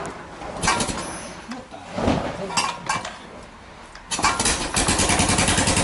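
A Royal Enfield motorcycle, just ridden in from South Australia, starts up: a few metallic clinks and rattles, then the engine catches and settles into a steady, loud, close thumping idle.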